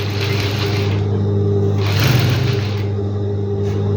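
A sewing machine stitching fabric, its motor humming steadily with a faint mechanical clatter, one slightly louder surge midway, close and alone with no talk.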